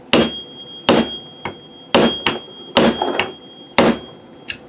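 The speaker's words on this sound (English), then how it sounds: "we should probably be using a chisel or a punch to clean that hole out" A hammer strikes a chisel or punch to clear out a clogged hole, about ten sharp metallic blows in an uneven rhythm, close and loud, some with a ringing tone.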